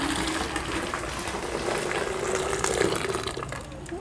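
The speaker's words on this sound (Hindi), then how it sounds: "तो हॉट वाटर डाल रहे हैं," Hot water poured into a water dispenser during cleaning, a steady splashing, gurgling fill running close and continuous for the whole stretch, slightly building toward the end with no talk.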